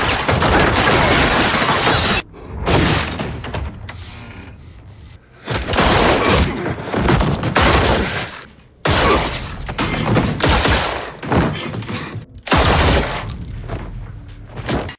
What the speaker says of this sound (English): the riders open fire on the group.